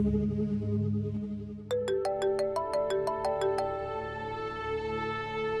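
An electronic phone ringtone for an incoming call in a Pakistani TV drama, a rising melodic pattern of tones repeating steadily for a few seconds over a low background hum, with no talking.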